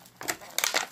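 A foil wrapper around a bath bomb crinkles in a few quick, close crackling bursts.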